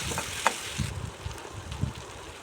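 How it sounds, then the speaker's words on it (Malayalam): Chopped tomato dropped into hot masala for Kerala-style chicken biriyani gives a soft, steady frying sizzle with a few brief stirring bumps, close and fairly quiet, with no voices. "ഇനി ഇതിലേക്ക് ഒരു തക്കാളി ഇട്ട് കൊടുക്കുന്നുണ്ട്,"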